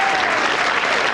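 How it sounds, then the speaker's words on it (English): A television studio audience at a 1980 strongman competition in Hammersmith applauds a strongman, a dense, loud, continuous wash of clapping heard close throughout. "getting a well-earned applause from the crowd"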